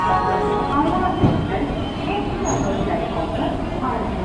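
The Doon Express from Howrah rolls along at speed, a steady rumble and rattle of carriages on the rails heard from inside the train, with voices in the background.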